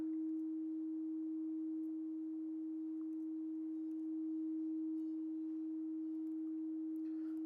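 A sonified rendering of gold as a binaural track is a steady, faint, pure electronic drone held at one pitch, with a light hiss behind it and no voices.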